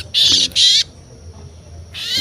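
A gladek watu bird calling close by, three loud harsh bursts of bright squawking, two in quick succession and a third after a short pause.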